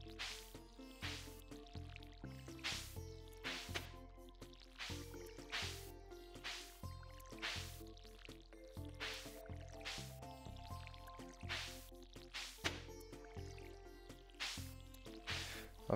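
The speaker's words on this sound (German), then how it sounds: "während ich hier am Gießen bin" Crops are watered in the farming video game Stardew Valley: repeated soft splashing drips from the watering can land over the game's steady melodic background music, with no talking.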